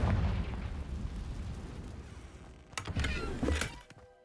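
Confringo fire spell in the video game Hogwarts Legacy, heard as a pair of sharp bursting blasts near the end, following a stretch of low rumbling game ambience.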